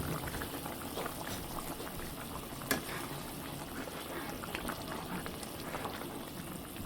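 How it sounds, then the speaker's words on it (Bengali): Water comes to a boil in a covered pot for a spicy baim fish bhuna, a steady close bubbling and simmering roil that runs continuously, with one brief knock partway through and no talking. "পানিটা ফুটে উঠছে"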